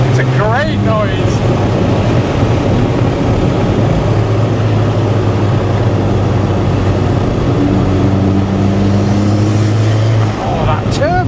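Turbocharged engine of an Alfa Romeo 4C Spider revving and accelerating, a loud, steady engine drone with rising tonal sweeps, close and continuous for several seconds, with a voice talking over it.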